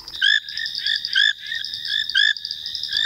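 Foam nest frogs call loudly in repeated bursts of rapid, pulsing trills, one after another with short pauses between.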